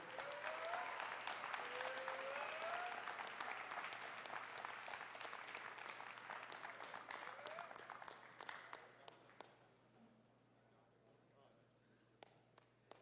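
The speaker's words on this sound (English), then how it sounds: "let's have one more round of applause for Henry Payne." An audience claps at a jersey retirement ceremony, dense sustained applause with a few cheers and whoops that gradually thins into scattered individual claps before fading out.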